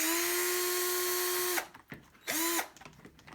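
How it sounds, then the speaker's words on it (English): A power drill buzzes steadily as it drives out a 2.5 mm screw on a Traxxas Summit 1:10 RC truck, running continuously before cutting off, followed by one short second burst that spins down. "Then buzz it off the rest of the way using my drill."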